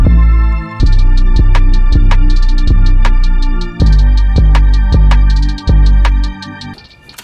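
Reversed Omnisphere pad chords swelling up loudly in repeated surges, layered over a steady beat with punchy low hits and sharp high ticks, cutting off abruptly at the end.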